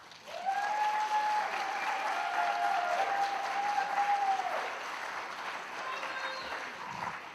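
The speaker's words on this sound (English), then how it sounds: "Please give a big round of applause for Marilyn Burke." An audience applauds steadily for a retiring high school teacher at a school district event, with a long stretch of dense clapping that fades slightly toward the end, while a faint steady hum runs underneath.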